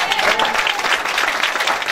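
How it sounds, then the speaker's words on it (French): A church congregation applauds the Lord during a French-language worship service, with dense, loud, sustained clapping that fills the room and a few voices mixed into the crowd. "Vous pouvez acclamer le Seigneur pour sa vie."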